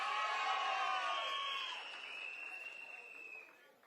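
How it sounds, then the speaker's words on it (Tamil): Audience at a TVK political stage event clapping and cheering to welcome a speaker, a dense burst of applause and shouts that gradually fades over a few seconds. "நம்ம சிங்கப்பெண்ணை நல்லா கைத்தட்டி உற்சாகப்படுத்துங்கப்பா."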